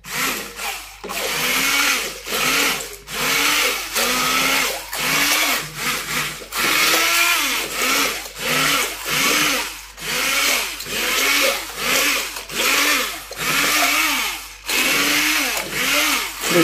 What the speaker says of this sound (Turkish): Yani homojen bir şekilde donması için böyle karıştırmamız gerekiyor.